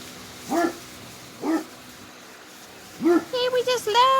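Eleven-week-old puppies bark in short high yips, a few spaced single barks followed by a quick cluster of whiny yelps, close and lively, with a person cooing to them in between.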